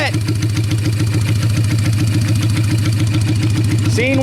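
A motorcycle engine idles close by before a ride, a loud steady rhythmic putter with even pulsing firing beats, and a brief squeaky sound near the end.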